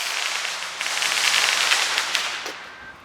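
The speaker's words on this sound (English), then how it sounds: "Someone's blowing up fireworks." Distant fireworks crackle in a rapid, irregular patter of small pops outdoors after a severe thunderstorm, a steady faint rattle over a few seconds with no talking.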